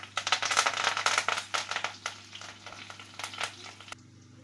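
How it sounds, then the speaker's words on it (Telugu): Green chilies and curry leaves frying in hot oil, a busy crackling sizzle with spatula stirring and scraping, close and steady before cutting off abruptly near the end. "ఇవి బాగా వేగాలండి ఇవి లైట్గా వేగుతూనే మనం కాస్త పచ్చి కరివేపాకుని యాడ్ చేసేసుకోవాలి"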